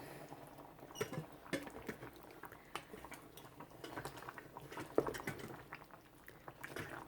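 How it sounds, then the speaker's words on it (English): Mac and cheese bubbling at a rolling boil in a rice cooker: faint, irregular popping and gurgling with scattered soft clicks, quiet and close, no speech. "you can see we're at a full rolling boil here"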